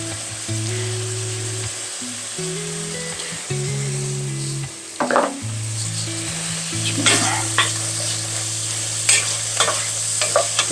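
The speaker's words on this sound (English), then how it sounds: "Move this around a little bit." Tomato sauce being stirred in a hot pan, a steady loud sizzle with scattered spatula scrapes and knocks, set against a sustained low musical tone.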